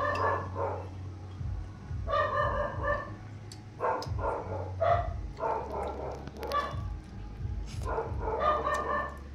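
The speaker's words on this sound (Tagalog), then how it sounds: "Ingay ng aso." Repeated dog barks come in bursts over a low droning hum, with a rooster-like call mixed in; fairly close and loud, in the Philippines.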